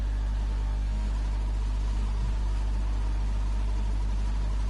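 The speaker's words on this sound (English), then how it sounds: "he's got a glitchy gearbox, just what we love to hear." A glitching gearbox on a car in a racing video game gives off a steady, droning engine hum with a constant low buzz and faint irregular clicks, continuous and unchanging throughout.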